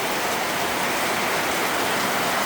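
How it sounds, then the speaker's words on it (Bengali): Calm evening rain falls with no wind, making a steady, even wash of patter that holds at one level throughout. No voices are heard. "একেবারে নীরবভাবে বৃষ্টি পড়তেছে"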